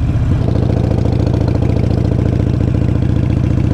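A motorcycle engine idles steadily with a rapid, even mechanical throb and slight clatter, loud and close, with no voices.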